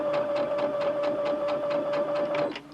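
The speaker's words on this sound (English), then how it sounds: "it's just a case of push the button and the machine will go" A Brother SE625 sewing and embroidery machine runs a stitch, its needle clattering in a fast, even rhythm of about four strokes a second under a steady motor whine, close and clear, then stopping.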